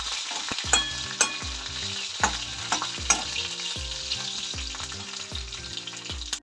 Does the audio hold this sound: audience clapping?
no